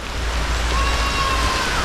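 Rain pours down outdoors as a steady, dense hiss of drops striking surfaces, with a low wind-like rumble beneath it; the wash is continuous and even across the short stretch, with no voices.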